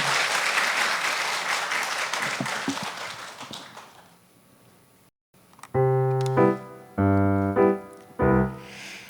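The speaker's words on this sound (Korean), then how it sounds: "큰 박수로 환영해 주시기 바랍니다" Audience applause at a book concert welcoming a music duo, a dense burst of clapping that fades out over several seconds, followed by loud sustained musical tones starting in separate phrases.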